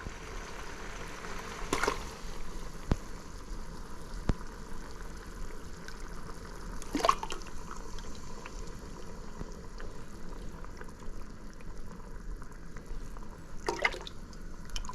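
Buffalo sauce made with Frank's RedHot original simmers quietly in a pan, giving soft bubbling and occasional faint pops and drips against a low background hiss.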